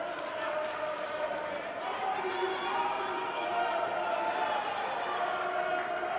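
A crowd cheers at a judo championship in Paris, a steady roar of support for a judoka. The noise stays constant throughout, fairly close and full, under a faint wash of voices.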